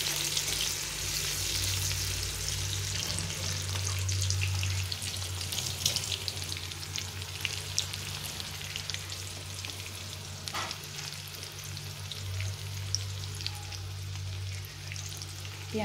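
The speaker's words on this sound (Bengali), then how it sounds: "পেঁয়াজটা একটু নাড়তে থাকি।" Chopped onion frying in hot oil with whole cumin and dried chilli for a magur fish curry, sizzling steadily up close while a spoon stirs and scrapes the pan now and then.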